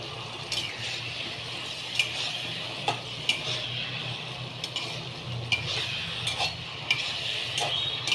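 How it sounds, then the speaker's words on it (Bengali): Eggplant pieces frying in a pan of oil with turmeric and green chilli paste for a thin hilsa fish curry, a steady soft sizzle with occasional stirring clinks, close and moderately quiet, no talking. "এবার আমি বেগুনগুলোকে ছেড়ে দিলাম"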